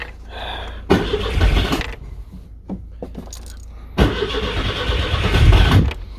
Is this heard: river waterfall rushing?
no